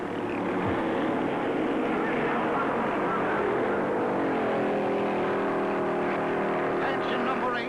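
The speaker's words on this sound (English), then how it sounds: "The front runners roar away, leaving a dust and grit-filled tornado as they head for the first turn" Stock cars at the 1956 Darlington Southern 500, including a Ford, a Chrysler and a Chevrolet, roaring away from the start in a dense blended engine drone, loud and sustained beneath an announcer's voice.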